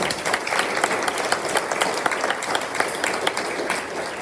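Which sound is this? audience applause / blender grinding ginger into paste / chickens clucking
audience applause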